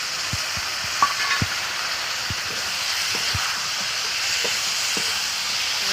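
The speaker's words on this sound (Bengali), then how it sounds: "ধনে পাউডার দিয়ে দিলাম তো মশলাটা ভালো করে কষে নেবো আমি টমেটো কুচি দিয়ে দিলাম" Spice masala with coriander powder and chopped tomato sautéing in a pan for a fish curry, a steady close sizzle with periodic knocks and scrapes of stirring, no talk.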